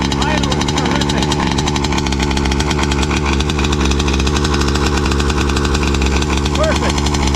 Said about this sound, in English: Idle is terrific.